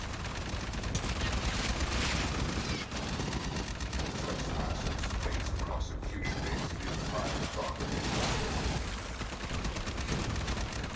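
Turret gunfire in the Aliens: Fireteam Elite video game, a dense, continuous mechanical rattle of rapid shots running loud and steady throughout with brief dips.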